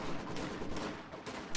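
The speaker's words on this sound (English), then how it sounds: "we've got a Maxim fight going on" Maxim machine guns in Company of Heroes rattle through a steady wash of distant battle noise, a continuous crackling of fire with no voices.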